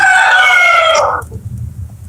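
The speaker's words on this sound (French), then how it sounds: "Il est où le coq là?" A rooster crows once, a loud, drawn-out cock-a-doodle-doo lasting about a second, then fades into low background rumble.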